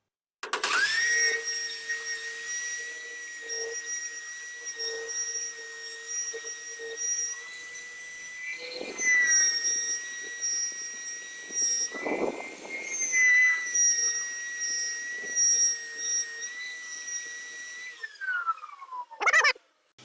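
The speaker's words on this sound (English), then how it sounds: "let's put it on the wire wheel real quick" A rusty chrome socket, its plating badly worn, is pressed against a spinning wire wheel, giving a loud, steady high whine with scratchy grinding bursts that rises and falls as the socket is worked, then winds down at the end.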